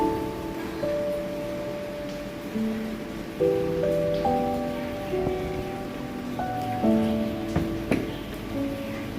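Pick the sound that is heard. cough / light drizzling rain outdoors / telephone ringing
light drizzling rain outdoors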